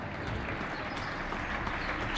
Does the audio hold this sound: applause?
yes